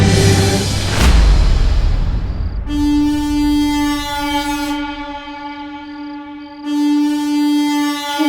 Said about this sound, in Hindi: ये तो सांता की हॉर्न पाइप की आवाज है।